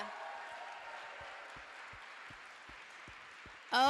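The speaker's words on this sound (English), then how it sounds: "Let's give them one more round of applause." Faint, distant applause from a crowd, a steady soft patter lasting a few seconds before a louder voice cuts in at the end.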